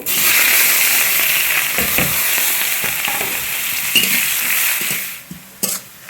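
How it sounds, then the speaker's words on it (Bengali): Onion sizzles steadily in hot oil in a home kitchen, a loud continuous frying hiss with a few scrapes and clinks of a utensil, easing off near the end. "এবার তেল দেবো পেঁয়াজটা ভেজে নেব"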